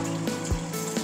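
Leftover water pours into a fish tank pump, a short close trickle and gurgle lasting about a second.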